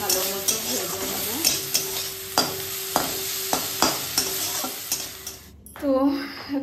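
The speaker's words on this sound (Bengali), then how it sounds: "ভালো মতো ভেজে নেবো।" Kharkol leaves fry with garlic, chili, salt and turmeric in a pan, a steady loud sizzle broken by rhythmic spatula scrapes and stirring strokes roughly every half second, close and without talk.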